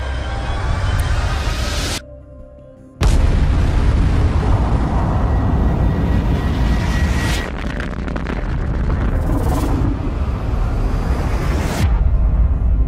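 A dense, loud roaring rumble of a supernova explosion sound effect, sustained and broadband, cutting out briefly near the start before surging back with swelling whooshes and continuing unbroken to the end.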